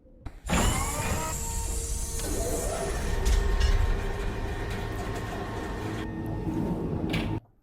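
A train sound effect plays for a No Man's Sky stream, a loud sustained mechanical rumble and hiss with a ringing tone that holds for about seven seconds, then cuts off abruptly.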